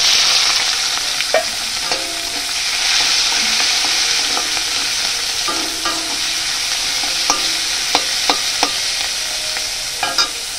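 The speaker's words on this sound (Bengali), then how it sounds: "জিরে লঙ্কা ভাজা হয়ে গেছে, এবার এই পেঁয়াজগুলো দিয়ে দেব।" Onions fry in a wok over a steady, loud, close sizzle that runs throughout, broken by scattered spatula scrapes and small taps against the metal; there is no speech.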